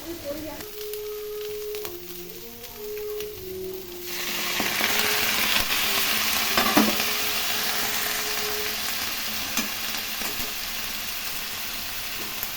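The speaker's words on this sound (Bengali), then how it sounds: "বেগুন একটু ভালো করে ভেজে নেব।" Eggplant sizzles steadily as it fries in a pan for a small fish curry, a loud, even hiss that swells after a few seconds, with a faint tonal hum and an occasional clink early on.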